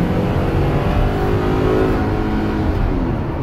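A Ford Transit 350 cargo van's engine accelerating hard while merging, a steady, loud, rising drone heard from inside the cab with road noise and no talk.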